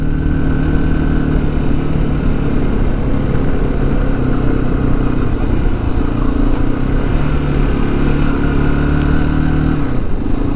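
A motorcycle engine runs loud and close for the whole stretch, a steady, unbroken mid-to-low drone still running on last year's old petrol, with no talking over it.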